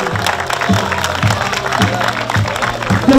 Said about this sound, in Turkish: sizden şöyle kocaman yürekten bir alkış rica ediyorum